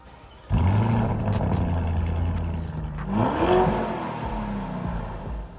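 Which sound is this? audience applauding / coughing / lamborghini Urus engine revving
lamborghini Urus engine revving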